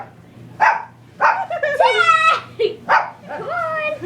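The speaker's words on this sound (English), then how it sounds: "He's just barking at him." A dog barks and yips in short bursts close by during a standoff with a cat, several sharp barks with whiny tails, with a person talking faintly underneath.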